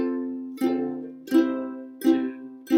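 A ukulele strums four close, bright downstrokes on a song's chorus, one per beat at an even rhythm, and each strum rings and decays before the next.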